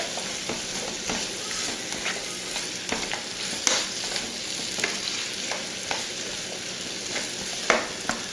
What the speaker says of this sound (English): So the onions and garlic, just going to brown them up a little bit.